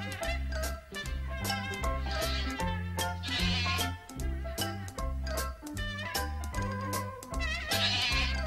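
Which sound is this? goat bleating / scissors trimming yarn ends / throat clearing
goat bleating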